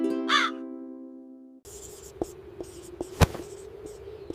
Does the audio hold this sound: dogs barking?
no